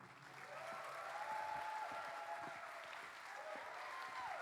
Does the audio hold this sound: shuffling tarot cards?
no